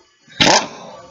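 A pneumatic air impact gun gives one short, loud burst while loosening the nut on a car's shock strut, then its noise fades away. No one talks.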